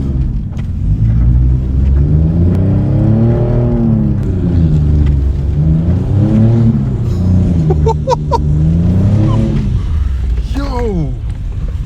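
A Mopar car revs hard and steadily while drifting sideways through a snowy parking lot, the engine note rising and falling in long sweeps, loud and close, with a voice talking briefly over it near the end.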